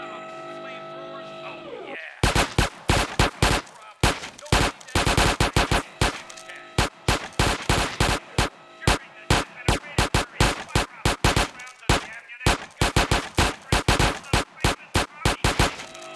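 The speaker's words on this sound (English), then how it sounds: "Right, let me shoot." Rapid gunfire from a shooting range in GTA San Andreas, aimed at targets with red markers: loud, sharp shots in quick bursts and steady runs, continuing almost without pause after a short stretch of quieter game background.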